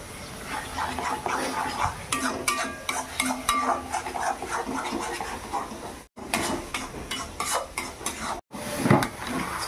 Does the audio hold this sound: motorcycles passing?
no